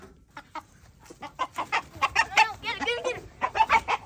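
A rooster on a farm clucks and squawks in a rapid, rising run of calls as it flees into a peacock pen, close and fairly loud, with brief talk and footsteps around it.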